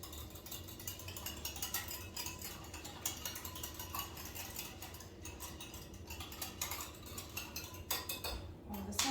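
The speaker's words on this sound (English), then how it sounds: "Grab my little whisk here." Mini whisk whisking a mixture in a pan, giving continuous fast metallic scraping and rattling strokes that are close and fairly faint, with occasional louder clinks.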